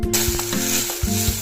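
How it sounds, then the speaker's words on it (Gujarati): Ragda tipped into hot oil with curd, bursting into a loud close sizzle and frying crackle that holds steady throughout, with a few stirring clinks. "હવે આપણે આમાં રગડો નાખી દઈએ।"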